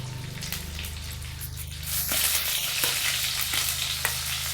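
Sliced onions and green chillies fry in a pan for a crab curry, giving a steady loud sizzle over a low hum, with a few sharp stirring scrapes and a brief rise in intensity midway.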